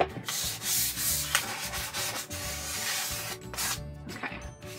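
Sandpaper rubs across wood in repeated back-and-forth strokes, a soft rhythmic scratching hiss heard up close.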